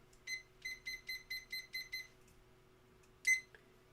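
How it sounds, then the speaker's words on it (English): Digital kitchen-style timer being set: a rapid run of seven short, evenly spaced electronic beeps, followed after a pause by one louder confirming beep, close and clear against a quiet room. "So let me get my timer."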